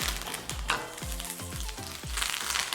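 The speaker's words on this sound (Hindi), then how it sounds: "लाइटली इसे भूनना है और इसमें जाएगा कड़ी पत्ता।" Asafoetida, mustard seeds, urad dal and curry leaves crackling in hot oil for a tadka, a close, steady sizzle broken by repeated pops and spits as the seeds burst.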